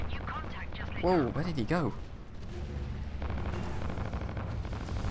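Missile explosions in the space combat game Fractured Space, a deep rumbling roar of blasts that swells and lingers, with a person talking excitedly over it.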